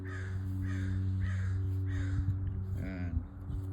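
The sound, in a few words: bird calling loudly outdoors, crow-like caw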